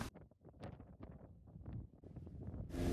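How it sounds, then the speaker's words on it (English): Strong wind buffets the microphone at Loch Ness, giving rough rumbling gusts that rise into a loud, steady roar near the end, with no speech. "Excuse the noise of the wind."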